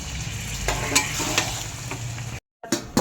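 Chicken kosha curry hisses and bubbles steadily in a pan just after a splash of water goes in, with a brief cut in the sizzle near the end before it resumes.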